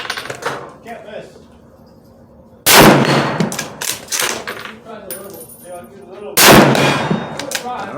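Two sharp, loud rifle shots from a Savage Axis II XP ring out several seconds apart, each followed by a long echoing decay and faint metallic ringing of steel gongs downrange at 100 yards.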